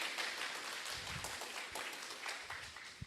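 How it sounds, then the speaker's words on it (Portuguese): Congregation applauding during a church service, a dense, steady wash of clapping from many hands throughout, with no clear speech over it. "Palmas para os nossos auxiliares hoje."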